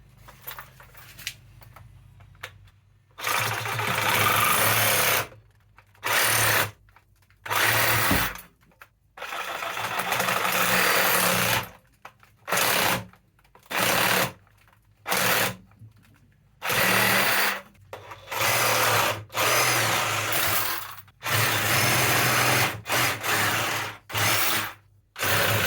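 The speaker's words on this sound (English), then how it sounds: "So we're just going to use a Sawzall to cut it." A Sawzall reciprocating saw fitted with a small-toothed metal blade cuts through pipe on a Hayward pool multiport valve, running loud in repeated bursts of a few seconds each, stopping and restarting throughout with short silent gaps.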